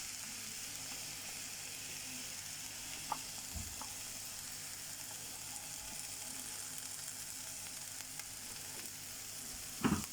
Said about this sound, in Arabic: ونقلبه ونسيب الطماطم مع البصل كده يتبلوا شويه مع الزيتون